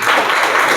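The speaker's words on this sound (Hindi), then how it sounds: "ताली बजाइए" Children clap together in a classroom, a brief, loud, even patter of many hands with no gaps, heard alone.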